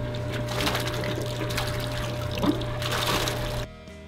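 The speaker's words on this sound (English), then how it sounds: "This recirc pump sends water back to the first treatment tank at a rate of 2 gallons per minute" A septic recirculation pump returns treated water from a clarifier chamber to the first treatment tank of a commercial high-strength waste system, giving a steady close trickling and pouring of water with a constant low hum, then cutting off near the end.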